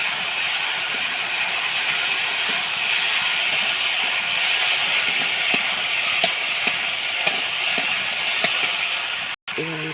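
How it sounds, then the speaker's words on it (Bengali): Okra and shrimp curry with chili and ginger-cumin paste fries loudly in a pan over a high flame, making a steady close sizzle with light scraping stirs and faint speech underneath. "এবার আমি একটু নেড়ে দেবো।"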